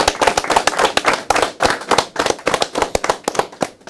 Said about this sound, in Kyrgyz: Сиздер телекөрүүчү үчүн кол чаап аткан окшойсуздар